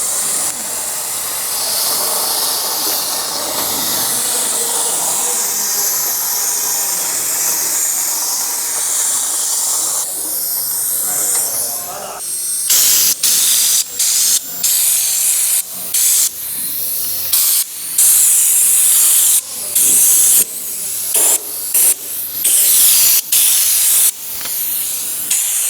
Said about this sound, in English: I've got my little hose tip because it's going to get right up there and squirt as much as far away up there as I can.